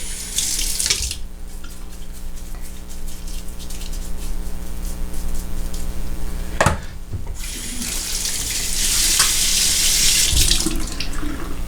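Hot water runs steadily from a tap into a sink, a continuous splashing rush nearby with a brief change in flow partway through.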